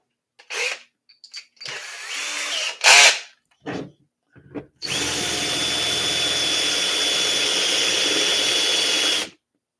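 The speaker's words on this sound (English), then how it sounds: "need that drill again" A power drill whirs in a few short bursts, then runs steadily for several seconds at close range before stopping, while countersinking holes on an Arrma Kraton 6S RC car.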